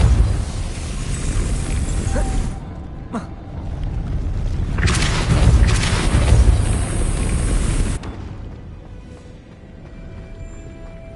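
A Depulso spell is cast in Hogwarts Legacy, producing a loud magical burst and booming whoosh amid a dense layer of game ambience and effects, with a second strong surge partway through before fading.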